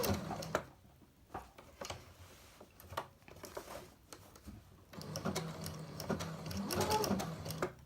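A sewing machine stitches appliqué fused with bondaweb, running in short bursts with pauses for turning at corners, then a longer steady run of close mechanical chatter.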